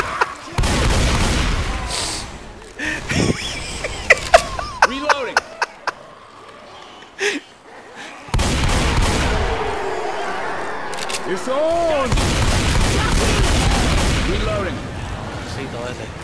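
Bursts of gunfire from Left 4 Dead 2 survival on the Port map, sharp repeated shots and booms in clusters with brief quiet gaps, mixed with game noise and players talking over it.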